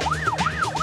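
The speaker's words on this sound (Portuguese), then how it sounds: "Com a sirene ligada" A police motorcycle siren wails loud and close, rising and falling in quick repeated sweeps as the bike weaves through traffic.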